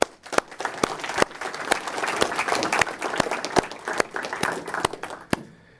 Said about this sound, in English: All right, we'll do a round of applause.